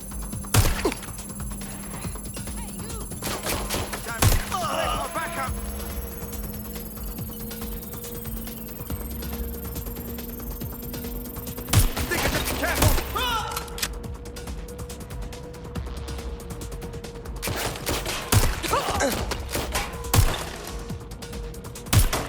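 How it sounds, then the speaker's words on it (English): Gunfire from a shooting suspect in the video game Watch Dogs Legion: scattered sharp shots and bursts ring out over a steady mechanical hum and low rumble, with a few louder cracks clustered in the middle and near the end. "Suspect is shooting!"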